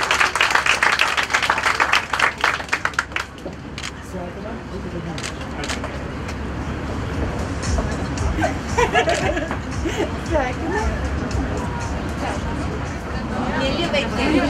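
Wedding guests clap to welcome the newlyweds: a burst of dense applause up front, then fading into steady crowd chatter and murmuring voices throughout.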